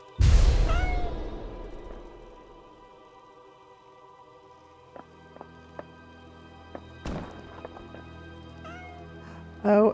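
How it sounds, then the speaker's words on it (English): A cat in the video game House Flipper 2 gives one loud meow at the start, followed by quiet scattered clicks and knocks, then a second short meow right at the end. "Oh, the cat is around because the cat turns my little torches off."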